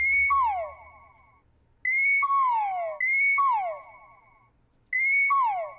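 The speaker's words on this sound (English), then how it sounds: "It's basically a little sliding flute type thing" A breathy synthetic flute tone slides down in pitch, repeating four times in a looping pattern, bright and upfront with no voices.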